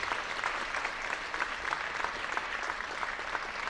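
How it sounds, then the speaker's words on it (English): Audience applause at a leadership conference, a continuous dense wash of clapping from a sizable crowd, moderately loud and steady, with no speech over it. "Can we give her an applause"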